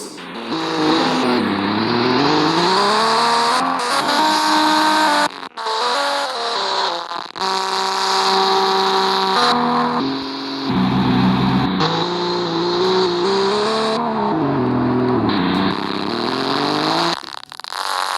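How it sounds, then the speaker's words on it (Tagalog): A Toyota Supra in Japan revs hard and loud up close, its engine pitch climbing and dropping in repeated sweeps with brief lifts off the throttle. "Toyota Supra in Japan."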